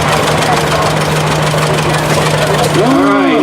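A 1943 John Deere A tractor idles at a tractor show parade in Waterman, its steady low engine drone continuing throughout, with crowd noise and talk around it.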